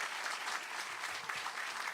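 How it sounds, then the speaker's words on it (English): Audience applause at a high school groundbreaking ceremony, a steady wash of clapping from a crowd that holds even throughout without any talk over it. "Let's give Raela another round of applause"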